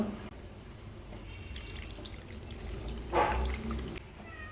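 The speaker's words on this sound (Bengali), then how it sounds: "ছানাটা আমি ছাঁকনির ওপরে ছেঁকে নিচ্ছি" Water drains from lemon-curdled chhena (fresh cheese) held in a strainer, a soft, close trickle and patter with a brief louder splash near the end, no voices.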